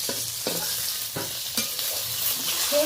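Fish fries in hot oil in a wok, giving a steady loud sizzle broken by a few sharp stirring scrapes as pieces are moved and lifted out.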